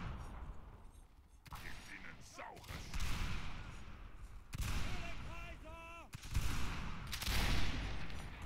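Musket volleys in Mount & Blade Napoleonic Wars, with a line of muskets firing in rippling, crackling bursts and booming reports at intervals, mixed with shouted voices and battle chatter.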